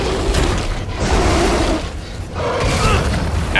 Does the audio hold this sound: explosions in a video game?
yes